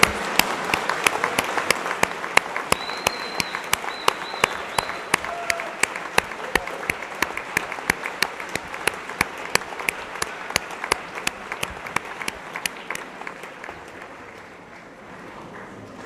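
A graduation ceremony audience claps for a long stretch, a dense wash of many hands with a few sharp near claps standing out, the applause thinning and fading toward the end.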